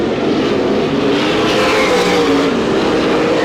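Sprint cars roar around Butler Motor Speedway in an IRA race, a loud, dense, sustained engine drone with cars jostling out of the fourth turn, no voices over it.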